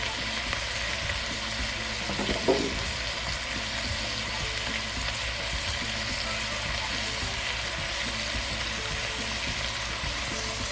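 Potatoes frying in Crisco and kielbasa oil for a kielbasa hash give off a dense, even hiss throughout, with one brief clatter partway through.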